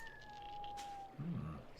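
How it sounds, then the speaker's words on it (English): A cat meows once in The Longest Journey video game, a short low call near the end, after a steady tone and faint game ambience. "Sounds like a cat."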